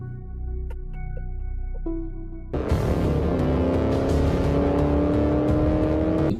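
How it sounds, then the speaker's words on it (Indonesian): A car engine from a 2022 film scene surges in after a quieter tonal passage, roaring loud and close with a rising revving drone that holds to the end. "ditabrak dari belakang oleh sebuah mobil yang membuatnya tewas saat itu juga"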